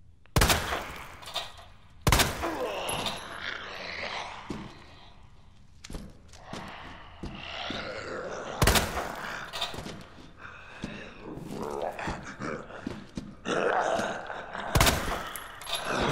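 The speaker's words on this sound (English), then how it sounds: "or do I walk up to them and shoot them with a shotgun?" Shotgun blasts aimed at zombies in Resident Evil 2, several sharp, loud bangs spaced irregularly through the stretch, with game noise and some voice activity between the shots.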